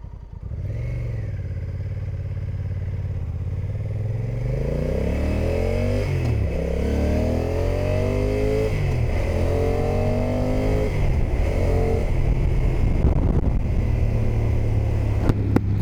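A Honda NT1100 or Kawasaki Versys 1000 SE motorcycle engine revs and accelerates through several gear changes in urban riding mode, steady loud motor noise with rising and falling pitch, heard up close.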